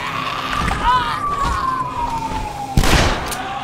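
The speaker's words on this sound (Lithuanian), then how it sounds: "Sirena iš karto." A siren wails in the zombie video game Dead Island, a single tone sliding slowly downward at a steady level, mixed with game noise and a sharp burst of impact near the end.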